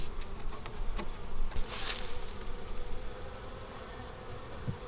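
Honey bees buzz steadily around an open beehive during a late-season inspection, a dense close swarm hum with brief louder passes of individual bees near the microphone.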